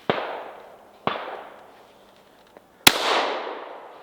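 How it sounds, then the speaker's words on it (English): Shotgun blasts at a clay shooting ground while aiming at clay targets: two sharp reports about a second apart, then a louder third shot, each leaving a decaying echo outdoors. "I'll do me firing, and then I'll try and capture a clay."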